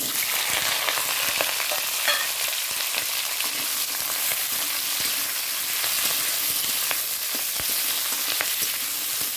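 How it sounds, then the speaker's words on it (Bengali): Dry chillies and fenugreek seeds crackle in hot oil, a loud continuous sizzle peppered with small pops and faint utensil ticks throughout, with no speech. "তেল, দিয়ে দিয়েছি শুকনো লঙ্কা আর মেথি ফোড়ন দিয়ে দিয়েছি"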